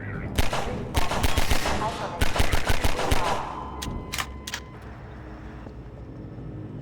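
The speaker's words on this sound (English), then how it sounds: "The gun will fire as fast as the player can click their input button" A Half-Life 2 pistol fired rapidly in quick bursts of sharp, loud shots, followed by a few scattered single shots, with a voice speaking briefly underneath.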